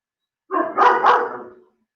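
A dog gives a single short, close bark with a quick double pulse, loud and clear against silence.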